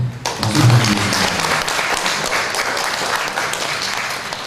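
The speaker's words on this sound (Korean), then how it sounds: "네, 박수 부탁드리겠습니다." Sustained audience applause at a Family Federation for World Peace and Unification certificate ceremony in a church hall, dense and steady for several seconds without talk.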